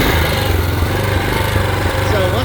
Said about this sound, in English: It'll always start right up, but usually takes a few minutes on choke to get to where it wants to idle well.